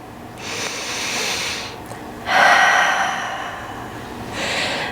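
Three slow breaths through the nose during a crescent lunge yoga flow, each a soft airy exhale spaced a second or so apart, close and alone without talk.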